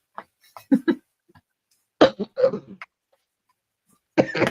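A few short, harsh coughs come in separate bursts with pauses between them, close to the listener, with no talking.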